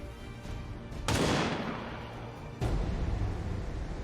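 Two sharp, heavy gunshots from the video game XCOM 2, each a loud crack followed by a ringing decay, about a second and a half apart with no talking.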